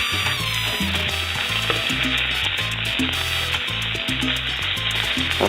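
An asparagus omelette frying in a pan just after being flipped gives a loud, continuous close sizzle with a steady crackle and no pauses.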